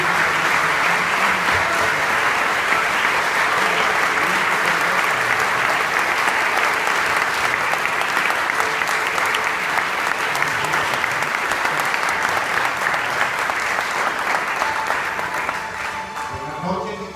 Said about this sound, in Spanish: Y que la iglesia dé un fuerte aplauso por esta persona que está aquí.